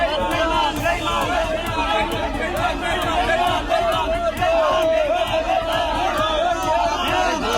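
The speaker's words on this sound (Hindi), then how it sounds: "जैसे ही सयोनी घोष अपने लोकसभा क्षेत्र पहुंची तो भीड़ ने नारेबाजी शुरू कर दी।" Angry crowd chanting slogans at a politician arriving in her Lok Sabha constituency in India, a dense, loud roar of many voices shouting in rough rhythm, continuous and close throughout.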